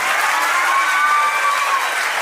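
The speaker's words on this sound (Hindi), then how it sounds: "पहले अपने टीचर्स के लिए जोरदार तालियां बजाओ" Loud, sustained applause from a hall of students clapping for their teachers at a school event, dense and even throughout, with faint cheering tones woven in.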